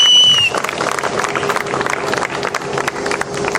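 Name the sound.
audience applause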